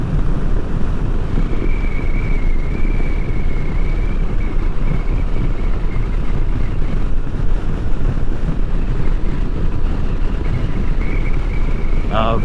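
Strong, steady wind buffets the microphone on a cold motorcycle ride from Sydney to Canberra in Australia, a constant broadband roar with engine and road rumble beneath it, loud throughout.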